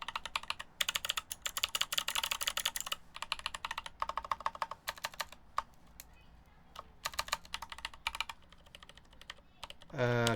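Mechanical keyboard keys clicking in fast bursts of typing, some switches clicky and others silent or spring-swapped, with pauses between runs and a brief louder rattle at the end.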